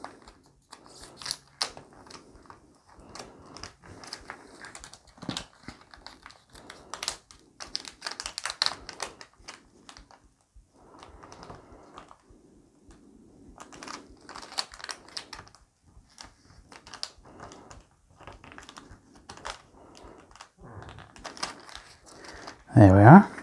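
Mylar archival wrap crinkles and clicks as it is folded over the corner of a vintage book's dust jacket. Soft, close, scattered rustles run under a person speaking, ending in a louder crackle.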